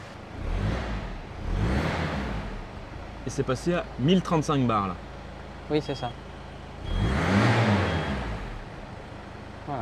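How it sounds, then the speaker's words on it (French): A turbocharged Peugeot 206 SW engine on a test bench swells twice through throttle blips to build boost, at the start and again near the end, loud and close, with someone talking in the quieter stretch between. "si on démarre la voiture et qu'on met par exemple des petits coups de gaz pour faire charger le turbo"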